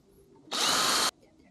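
A power drill bores a hole in a bicycle bottom bracket shell, a 10mm bit lubricated with cutting fluid: one loud, steady high-pitched burst of about half a second, with quiet room tone before and after.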